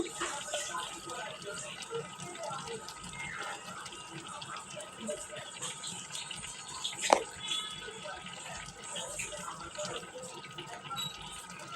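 A lidded pot of taro stolon curry with dried shrimp coming to a boil on the stove, a soft continuous bubbling and watery rush with a single sharp clink midway, fairly quiet and steady throughout.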